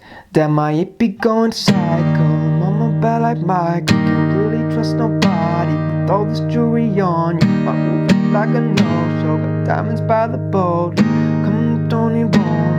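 Acoustic guitar strums the chords of a song in a sustained rhythm pattern while a voice sings along over it, loud and close.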